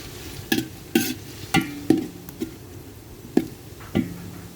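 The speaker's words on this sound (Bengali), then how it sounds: "বেরেস্তা পেঁয়াজটা একটু নেড়ে দিচ্ছি যাতে করে পোড়া না লেগে যায়। মশলাটাও নেড়ে দিচ্ছি।" A spoon scrapes around a pot, stirring fried onions with ginger, garlic and cumin paste for chicken dum biryani, about eight regular, close strokes over a soft sizzle, with no talking.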